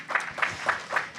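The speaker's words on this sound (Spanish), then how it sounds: "Démosle un fuerte aplauso a nuestro Padre Celestial." A church congregation claps in a steady rhythm during a Spanish-language sermon, with four evenly spaced, moderately loud bursts of clapping heard close.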